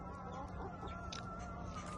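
A chicken clucks faintly in a rural homestead yard, soft intermittent clucks over a low steady background hum.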